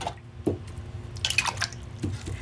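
Water is dabbed onto an owlet painting: soft wet taps and a brief splashy patter of brush and liquid, close and intermittent in a quiet room.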